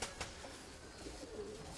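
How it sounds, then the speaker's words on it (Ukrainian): An older male pigeon with a moulting tail coos softly in a low, continuous murmur, faint and steady for a couple of seconds with no talk. "це точно голубок"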